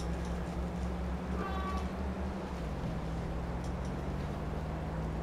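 A domestic cat meows loudly in a drawn-out, wavering call lasting a couple of seconds, heard over a steady low engine drone.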